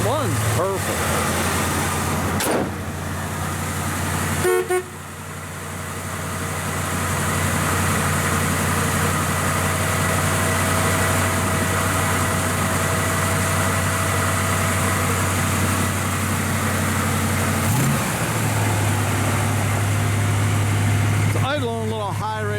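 A 1964 Chevrolet Chevelle Malibu SS convertible engine idles steadily at a slightly raised, even rumble with the choke on in cold weather, with a low constant drone throughout and brief bits of talk nearby.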